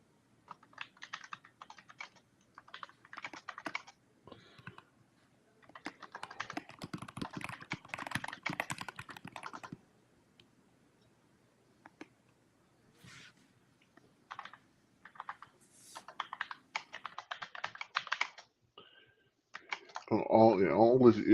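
Rapid clicking keystrokes on a computer keyboard with a faulty U key come in bursts and pauses, close and fairly loud, with a louder, denser stretch at the very end.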